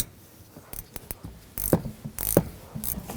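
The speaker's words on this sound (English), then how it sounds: "take the ratchet wrench." A ratchet wrench tightens the nut on a rear shock of a 2004-10 Toyota Sienna, giving short, quiet bursts of clicking close by, separated by pauses, with no talk.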